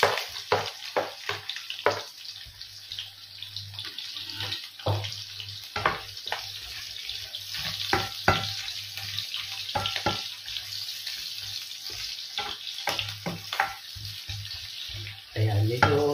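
Onions and garlic sizzle and fry in a pan, a loud continuous crackle close up, broken by frequent clatters of stirring and a brief louder hiss near the end.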